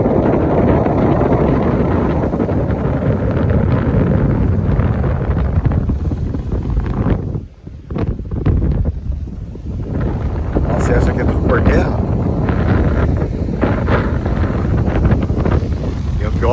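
Strong wind on the beach at São Miguel do Gostoso in Rio Grande do Norte buffets the microphone with a loud, continuous roar and gusty rumble, dipping briefly midway before surging again.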